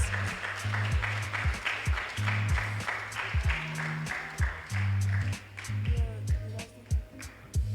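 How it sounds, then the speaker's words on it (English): Audience applause for middle school division artists at a live art competition, with a moderate, steady clapping texture running the full length, while low pulsing tones play underneath. "Let's give them another round of applause"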